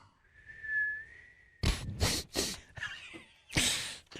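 A person whistles a single wavering, sustained tone to imitate a whistling scrotum, then short breathy snorts and puffs follow, close to the mic.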